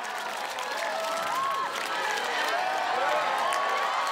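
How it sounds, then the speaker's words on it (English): Friends in the audience cheer and clap steadily for a woman running a Ninja Warrior UK obstacle course, a continuous crowd roar with whistles and shouts rising and falling throughout. "You can see her friends in the audience cheering her on."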